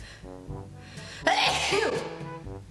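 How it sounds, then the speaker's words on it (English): A single loud sneeze bursts out sharply after a quiet breathy lead-up, close to the listener, then trails off. "I'm gonna sneeze"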